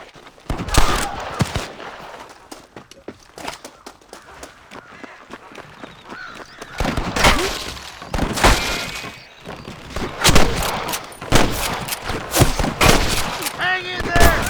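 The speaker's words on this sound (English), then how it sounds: "I can hear more gunshots." Gunfire in the Western video game Red Dead Redemption, sharp shots arriving in scattered bursts and clusters, some louder and closer, with game voices and ambience between them.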